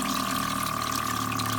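A SunSun HW-5000 canister filter pumps water in a steady, continuous rush with a constant hum underneath, close and even throughout.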